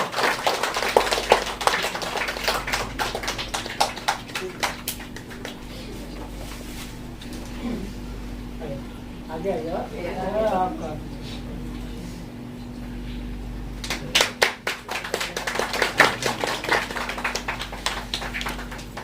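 Audience applause during the release ceremony of Tabassum Nadkar's short-story collection Kehkashan-e-Ghum, with bursts of clapping at the start and again near the end, and quieter murmuring and scattered sounds between them.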